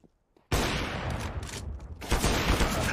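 Rapid bursts of automatic rifle fire from the video game CS:GO, loud and close, running almost continuously after a brief quiet start with a short lull midway.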